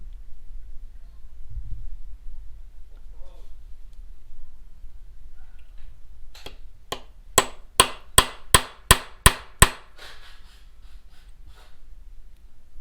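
A quick run of about eight sharp metallic hammer strikes on a punch in steady rhythm, close up, during a Honda Shadow VLX motorcycle bobber build, after a stretch of near silence with faint breathing.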